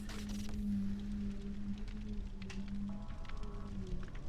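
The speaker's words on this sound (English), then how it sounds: "My neighbor is using her vacuum" A neighbor's vacuum cleaner runs with a steady drone and a grinding, metallic edge, holding a constant pitch throughout and heard alone, muffled as if through a wall.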